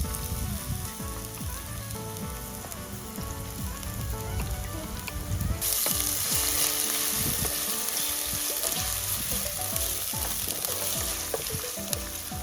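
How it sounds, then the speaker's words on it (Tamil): Crushed ginger and garlic fry in hot oil for a crab curry, a loud continuous crackling sizzle up close that swells brighter and more intense partway through, with no talking. "இப்போ எண்ணெய் நல்லா சூடேறிட்டுது. நான் முதல்ல இந்த இடித்து வச்சுருக்கிற இஞ்சி உள்ளியை போட போகிறேன்."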